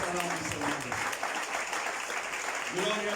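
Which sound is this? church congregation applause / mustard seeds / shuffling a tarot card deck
church congregation applause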